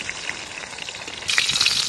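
Pomfret fish frying in mustard oil at an outdoor village picnic, a steady hiss that swells into louder, crackling sizzle partway through.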